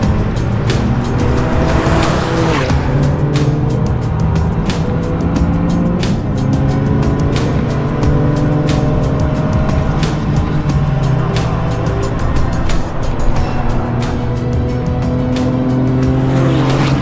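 A loud, tuned Toyota GR Yaris race car engine roars steadily on a slippery track, revving up and down through gear changes, with tires squealing and no voices.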